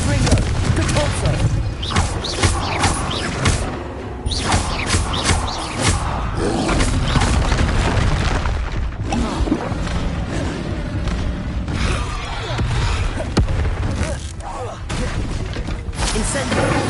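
Spell blasts and explosions in Hogwarts Legacy keep coming in dense, booming bursts with roaring impacts and crackles, loud and continuous for the whole stretch, while a voice keeps talking over the din.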